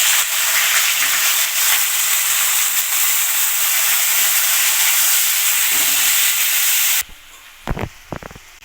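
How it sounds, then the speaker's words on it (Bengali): Chopped onions hit hot oil in a pan, which already holds dried chillies and bay leaves, giving a loud, continuous sizzle for about seven seconds before it cuts off, followed by a few soft clinks and scrapes. "এখন আমি দিয়ে দেব কুচিয়ে রাখা পেঁয়াজ।"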